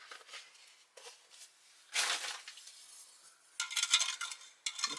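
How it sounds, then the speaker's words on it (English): Lemon isotonic drink from a Bundeswehr halal combat ration being stirred; several bursts of clinking, scraping stirring close up, separated by brief pauses, with no talk. "We'll give that a stir."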